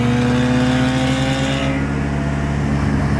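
A Nissan 240SX with a KA24DET engine warms up at steady idle with a light rev, the engine droning loud and close with a strong low rumble throughout, its tone easing slightly partway through.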